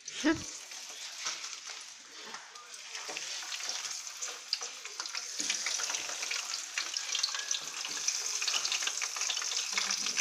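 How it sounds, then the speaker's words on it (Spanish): Chicken nuggets drop into hot oil with a splash, then fry with a dense, bright, crackling sizzle that stays loud and close throughout. "Separamos cuántas vamos a comer y las ponemos directamente al aceite calentito."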